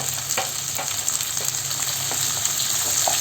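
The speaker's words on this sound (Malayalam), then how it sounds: "അരിഞ്ഞു വെച്ചിരിക്കുന്ന ഒണിയൻ ചേർത്ത് കൊടുക്കാം കൂടെ തന്നെ ക്യാപ്സിക്കവും ചേർക്കാം ഒന്ന് വാട്ടിയെടുക്കാം" Chopped onion and capsicum sautéing in a hot pan for chilli chicken, a steady close sizzle with soft scraping stir strokes throughout, no voices.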